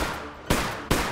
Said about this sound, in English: Oh, flare gun.